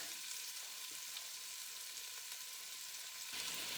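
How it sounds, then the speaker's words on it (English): Onions with a little garlic sautéing in a Le Creuset Dutch oven give a steady, close sizzle with a soft hiss throughout. The sound gets slightly louder near the end, and no one speaks. "So first I'm going to let these saute a bit, and then I'll be back."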